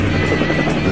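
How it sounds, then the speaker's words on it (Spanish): Military helicopters approaching, a loud, dense rotor roar with a steady low throb that fills the whole short stretch, close and unbroken. "Mientras 7 helicópteros se aproximan a la dotación del Stinger Mujahideen"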